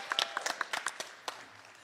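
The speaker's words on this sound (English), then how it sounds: "Give her a round of applause for that." An audience breaks into scattered, fairly quiet applause at a symposium, a handful of distinct claps spread over a couple of seconds before trailing off.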